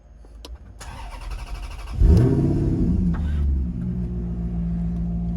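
An Alfa Romeo 8C Coupe cranks and fires with a loud throaty roar that settles into a steady deep idle, heard close after the faint click and whir of ignition.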